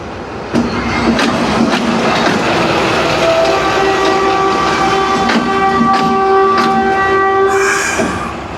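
Locomotive 63-8 runs on the main line in Karachi, heading a Karakoram Express and Pak Business Express service. Its horn sounds loud and sustained for several seconds over a steady, near rumble of the approaching train.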